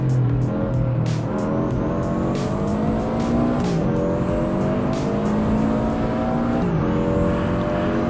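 A 400 horsepower Subaru WRX engine revs hard under acceleration while driving, climbing in pitch through the gears with brief dips at shifts, loud and close, with sharp clicks and road noise.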